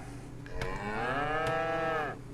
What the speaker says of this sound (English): those cows are loud